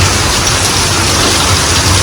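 Heavy monsoon rain pours down in a dense, steady roar of broadband hiss, close and loud, with no voices over it.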